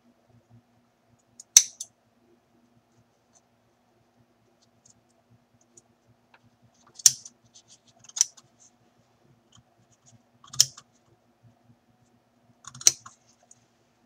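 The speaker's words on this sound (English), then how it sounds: "I will be trimming off some of the netting behind it" Scissors trim netting on a mannequin doll: five sharp, isolated snips spaced several seconds apart in an otherwise quiet room, close and crisp.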